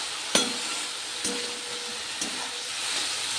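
Ground spice paste fries in a pan for a vinegar fish curry, giving a steady close hiss and sizzle broken by a few sharp knocks and scrapes of stirring.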